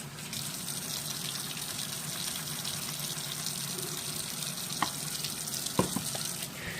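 Steady tap water runs into a sink while makeup brushes are rinsed, a continuous close hiss and splash with a couple of brief clinks near the end and no talking.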